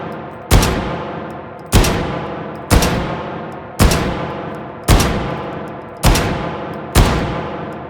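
Seven evenly spaced handgun shots ring out one after another in the VR game H3VR, each a sharp loud crack with a decaying tail, fired at a steady rhythm about a second apart with no talking.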